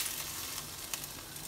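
Tuna sizzles in a frying pan with a steady, close crackling hiss and a few sharper pops, with no talking.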